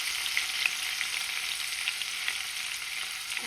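Bay leaf and cardamom fry in hot butter for paneer butter masala, giving a steady, moderate sizzle with faint crackles throughout, close by and without any talk.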